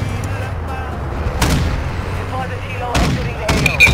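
Gunfire and blasts in Call of Duty Warzone Plunder, a few sharp loud bangs spaced about a second and a half apart over a low steady rumble.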